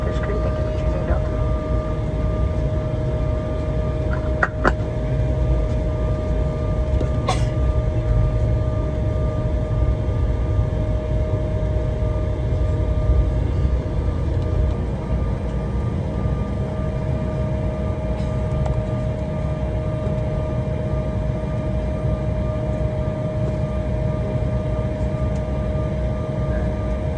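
A Delta Embraer E175 jet taxiing after landing in Boston, heard from inside the cabin as a loud, steady engine roar and rumble with a constant hum and an occasional faint click, with no break throughout.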